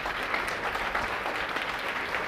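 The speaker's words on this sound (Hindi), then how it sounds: "एक बार खड़े होकर जोरदार तालियों से स्वागत।" A classroom crowd on its feet gives a teacher a standing ovation, with thick, sustained clapping that stays loud and even throughout.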